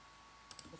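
Two quick, close mouse clicks while working in ETABS structural software, followed by a faint soft knock.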